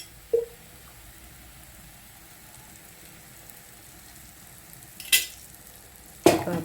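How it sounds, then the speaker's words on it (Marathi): Masala fries quietly in oil for a chicken curry, a faint soft sizzle broken by a few sharp clinks of stirring near the end. "मसाला चांगला भाजायला लागतो"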